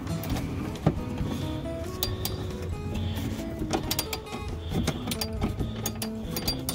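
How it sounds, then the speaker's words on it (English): Metallic clicks and clinks from a ratchet backing out a 10 mm bolt on the power window regulator bracket inside a 2000-2006 Nissan Sentra door, a steady run of sharp ticks over faint background rumble, with no talk. "you need to turn your ratchet to left, to counterclockwise to remove the bolt"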